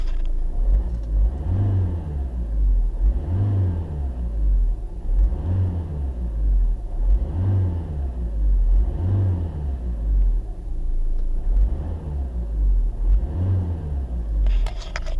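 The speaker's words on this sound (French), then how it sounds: "déjà quand on accélère comme ça dans le vide, il est bien plus vif" HDi diesel engine with a Bosch EDC15C2 remap, revved in neutral: seven regular rising-and-falling rev surges over a steady close idle rumble, loud and with no talk.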